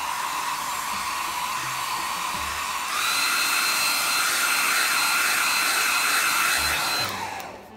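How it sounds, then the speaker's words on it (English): An airbrush sprays clear coat over model decals in a steady, close hiss of rushing air that grows a little louder partway through and cuts off at the end. "You can't see the airbrush, but I'm just clouding it on."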